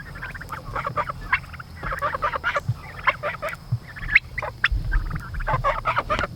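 Among a flock of chickens, a goose gives repeated short honks. Its calls blend with busy clucking and chatter from the fowl, and the bursts keep coming in uneven clusters.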